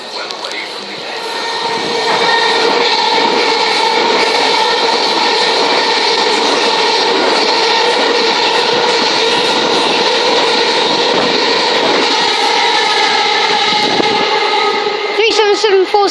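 Southern Class 377 electric multiple units pass through South Croydon station, a loud sustained rumble with rattling and humming that builds within two seconds and holds close by.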